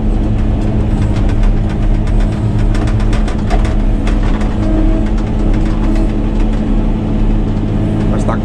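A Caterpillar 120K motor grader's diesel engine runs steadily and loudly while the machine reverses, cutting with its blade, a constant low drone with rattling clanks, as a voice speaks over it.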